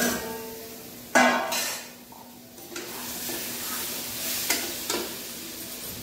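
Potato cubes and fried pointed gourd are stirred in a hot pan, a spatula scraping and clinking against the metal in a few separate strokes over a steady soft sizzle.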